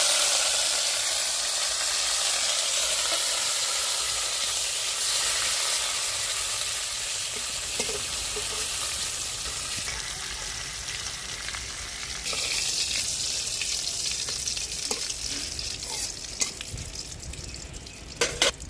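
Tempering spices, radhuni and panch phoron with bay leaf and neem leaves, fry in hot oil for a vegetarian neem shukto: a loud, steady sizzle that slowly settles, with occasional stirring clinks and spatters, no talk.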